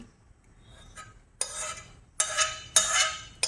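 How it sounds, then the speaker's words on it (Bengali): Restaurant-style chicken soup is ladled from a pot into a bowl, heard as several separate scraping, clinking strokes of the ladle against metal with short pauses between them. "নামানো একটা বাটির মধ্যে চিকেন স্যুপটাকে ঢেলে নিচ্ছি।"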